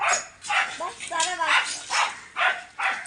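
Several pet dogs bark in the evening at home, a run of loud, close, repeated barks at irregular intervals with some yips and whimper-like sounds between them.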